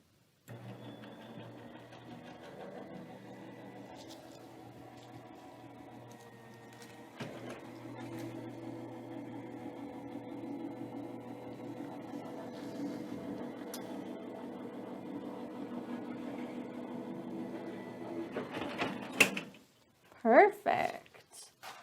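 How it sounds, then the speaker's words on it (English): Paper and a top plate are run through a die cutting machine, giving a long, steady mechanical whir and grind that holds for most of the stretch before stopping with a few louder clacks and rustles near the end. "We could use whatever paper we wanted to run through our die cutting machine."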